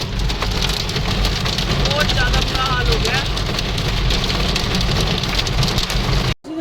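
Heavy rain and large hailstones pelt down steadily outdoors in a Punjab village, a dense, loud hiss of impacts with a low engine-like rumble underneath, while someone talks over it.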